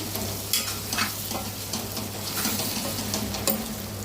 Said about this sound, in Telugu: లైట్గా కలిపించుకోవాలి, చిన్నగా తిప్పండి